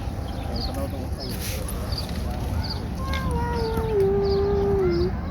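A ginger cat at a cat park gives a drawn-out, rising-then-falling meow near the end, close by, while people talk in the background throughout.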